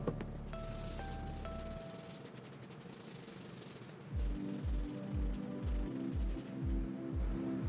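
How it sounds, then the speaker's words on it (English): Hand sanding the inside of a wooden cutting board's handles by itself, a steady scratchy rubbing that turns into rhythmic back-and-forth strokes about twice a second in the second half. "I'm going to sand the inside of both the handles"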